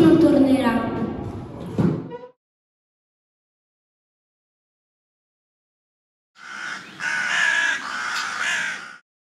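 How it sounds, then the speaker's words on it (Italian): A crow caws in two separate bursts: a harsh call at the start, then a long silent gap, then a rougher, noisier stretch of cawing. "Farò uscire un corvo che, se troverà un posto dove fermarsi, non tornerà."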